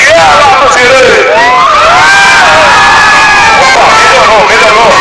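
The right side of a rodeo crowd shouts and cheers in a loud, sustained roar of many voices and whoops that carries through the whole stretch.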